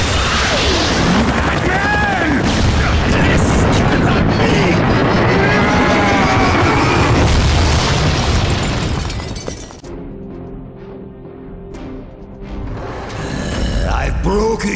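In a Batman video game, missiles are fired and explode in a dense, loud barrage of booms, crashes and shattering debris that roars for several seconds, briefly drops away, then surges again.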